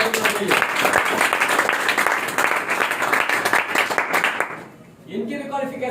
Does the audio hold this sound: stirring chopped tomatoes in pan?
no